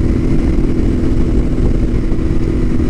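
A Royal Enfield Continental GT 650 motorcycle engine runs loud and close with a heavily blocked exhaust. It gives a steady, rumbling drone with slight throttle surges throughout and no voices.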